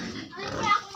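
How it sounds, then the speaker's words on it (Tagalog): Piglets squeal and grunt in a pen on a Filipino farm, short high-pitched cries close by, mixed with people talking. "Ang daming mga biik oh."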